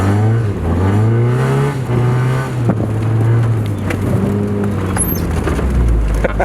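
An NA Mazda Miata fitted with a Torsen limited-slip differential, its engine revving up and settling at part throttle, loud and close with a rising then steady drone.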